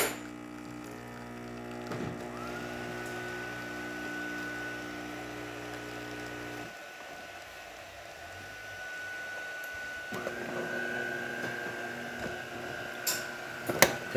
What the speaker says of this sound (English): There's that shot for you.